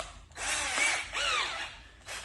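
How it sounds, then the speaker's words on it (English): A power drill with a stirring attachment whirs inside a hollowed watermelon top, running in two steady bursts with a brief pause between them. The sound is close and fairly loud, and the motor pitch shifts as it churns the flesh. "put this in the drill"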